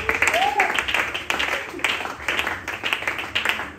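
A church congregation claps along in rhythmic bursts during a Sunday service, loud and close, with a voice speaking and singing over the applause.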